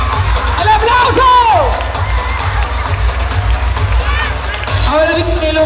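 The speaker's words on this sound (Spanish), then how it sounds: "¡El aplauso!" Crowd cheering and clapping at a Three Kings festival held by the town council in Ozuluama, with shouting children, whistles and lively babble close by, loud throughout.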